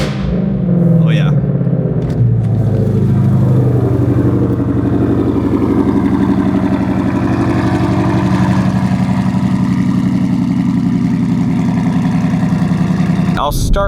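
A sports car engine in track exhaust mode idles with a deep, throaty, steady burble from open exhaust valves, loud and close, with a brief rev near the start.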